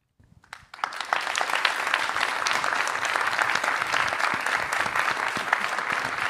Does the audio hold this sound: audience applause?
yes